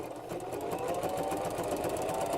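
A sewing machine stitching across a quilted mug rug with batting, a steady rapid mechanical whir and needle patter, close and continuous with no talk.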